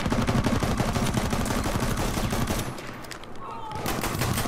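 Rapid gunfire from Battlefield 1 on PS4 crackles in dense automatic bursts that briefly pause and then resume, loud and close.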